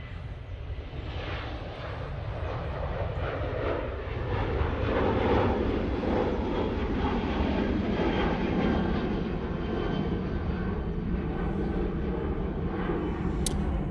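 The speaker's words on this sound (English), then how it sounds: "Ryanair 737 now departing." A Ryanair Boeing 737 departs Manchester Airport, its jet engines building from a distant rumble into a sustained, broad roar that stays steady and fairly strong as the aircraft climbs out.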